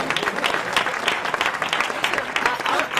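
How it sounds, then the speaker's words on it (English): An audience at a conference plenary session applauds for Kathy Bodine, a full, sustained round of clapping from many people in a large room, with a faint voice mixed in. "let's give Kathy Bodine a round of applause"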